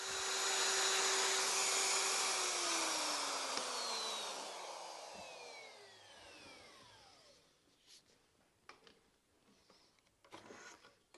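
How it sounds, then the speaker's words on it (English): A router cutting a round-ended mortise in wood on a mortise and tenon jig, a loud whining motor hum with rising and falling tones that winds down as the motor spins to a stop, followed by faint clicks and handling noises. "These cuts result in a round-ended mortise from the router bit."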